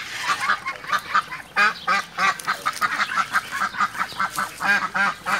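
A duck quacks loudly and steadily during a rescue, its rapid, honking calls repeating in a near-continuous rhythm with no talk over them.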